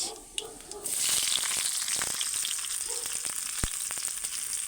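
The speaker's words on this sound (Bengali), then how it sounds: "কড়াতে আবারও তেল দিয়ে দিয়েছি দিয়ে ওতে দেবো জিরে শুকনো লঙ্কা আর পেঁয়াজ" Cumin, dried chili and onion hit hot oil in a wok, bursting into a loud steady sizzle with small crackles and an occasional clink.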